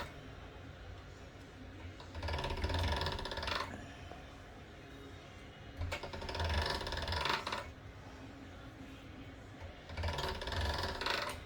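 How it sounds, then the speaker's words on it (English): A hand-cranked pasta machine rolls and blends polymer clay in three separate bursts of quiet grinding and clicking, each lasting a second or two, with near-silence between them. "Just gonna make sure it all melds together here before we throw it in the pasta machine."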